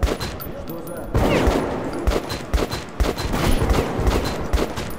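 Rapid bursts of Kalashnikov rifle fire in the shooter Metro 2033 Redux, loud and close, with sharp repeated shots in uneven volleys and someone talking intermittently under the gunfire.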